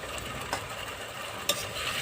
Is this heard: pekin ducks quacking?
no